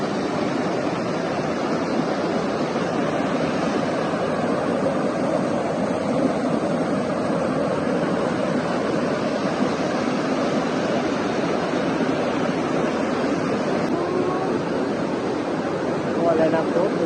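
A large waterfall in Laos sends down rushing water, heard as a dense, steady roar that stays even and loud throughout.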